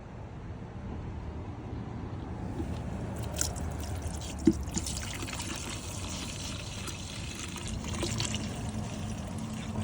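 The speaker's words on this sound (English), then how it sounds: "You can see the petrol comes out nicely" Petrol drains from a Yamaha motorcycle fuel tank into a plastic container, giving a steady close trickle and pour with a brief drip or knock midway, and no talking.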